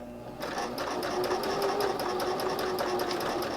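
Close sewing machine stitching a fabric bookmark, starting after a short quiet moment and running as a steady rapid mechanical chatter with a fine regular ticking, fairly quiet, with no voices.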